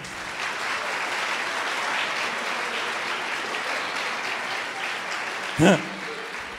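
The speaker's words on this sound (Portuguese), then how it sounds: "Dá uma salva de palmas para quem está do seu lado também." A church congregation keeps up steady applause during a Portuguese-language sermon, a continuous crowd clapping with one brief louder knock or voice burst near the end.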